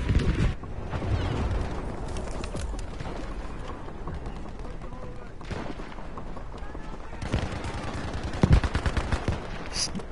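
A gunfire barrage in a battlefield video game, with dense rattling bursts and scattered sharp shots near and far, mixed with voices talking over the fighting.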